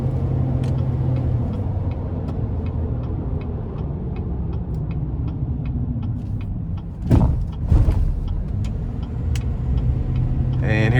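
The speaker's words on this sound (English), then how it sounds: "We'll definitely put our foot to the floor getting on the interstate." A 2016 GMC Sierra 3500HD Denali dually pickup with a Duramax diesel accelerates onto an interstate at full throttle, giving a steady, loud low engine drone and road roar, with a couple of brief rattling bursts near the end.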